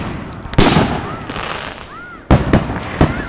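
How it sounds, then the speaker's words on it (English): Fourth of July fireworks exploding: several loud, sharp bangs burst out close by, separated by faint whistling, rising tones as shells fly, with a crackling rumble lingering between blasts. "I just wanted to show you guys some of our old fireworks that we shot"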